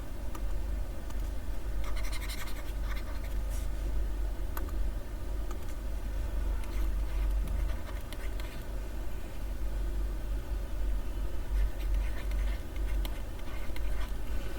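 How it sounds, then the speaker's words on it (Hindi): Writing during a lecture, a soft, continuous scratching of a pen or marker heard faintly and close over a steady low hum, with no voices. "यहाँ पे 1 मिनट ये लिख दें"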